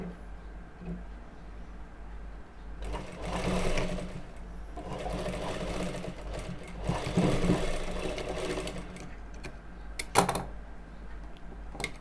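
Sewing machine running steadily while stitching a women's jacket, with a few short bursts and a sharp knock near the end, close and fairly quiet.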